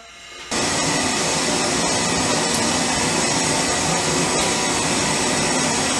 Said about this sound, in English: you can hear my furnace running there in the background